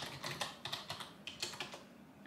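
Someone types a password on a computer keyboard, a short run of quick, fairly soft key clicks in an uneven rhythm, close and alone with no talking.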